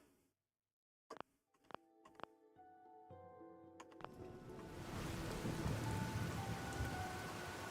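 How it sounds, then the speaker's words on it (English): Rain in Fallout 4 builds from a few sharp clicks and knocks into a steady, loud hiss of falling rain that fills the second half, with no talking. "I feel like the rain is maybe a little too loud there"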